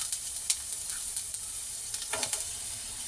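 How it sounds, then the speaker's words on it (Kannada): Chopped onions frying in hot oil for a cauliflower (gobi) manchurian, a steady close sizzle with a few brief crackles and stirring noises, no talking. "ಈಗ ಆಯಿಲ್ ಬಿಸಿಯಾಗಿದೆ ಅದಕ್ಕೆ ಕಟ್ ಮಾಡಿರೋಂಥ ಈರುಳ್ಳಿನ ಸೇರಿಸ್ಕೊಳ್ತಾ ಇದ್ದೀನಿ"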